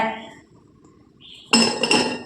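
Cut raw mango pieces drop into a glass jar for pickle, giving a sudden bright clink and rattle after a quiet pause, with a brief voice beforehand.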